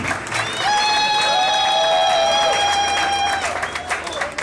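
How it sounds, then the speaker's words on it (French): Loud, steady applause and cheering from a crowd at a Congolese political gathering honoring Félix Tshisekedi, with sustained shouted voices riding over the clapping throughout. "je vous invite à applaudir et à faire du maximum de bruit"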